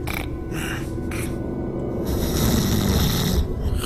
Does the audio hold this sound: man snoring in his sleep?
yes